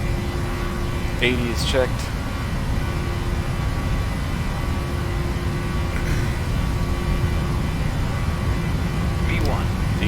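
Simulated PMDG 737-700 jet engines hold takeoff power during the takeoff roll in the Prepar3D flight simulator, a loud, steady, broadband roar throughout, with brief cockpit callouts spoken over it.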